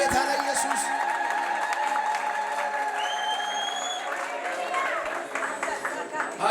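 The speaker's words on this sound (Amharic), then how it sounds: "እልልታችሁ ይሰማ ጭብጨባ ለጌታ ለኢየሱስ" A church congregation ululating and clapping for Jesus: a crowd's applause and high trilling cries fill the space, with a voice speaking over it.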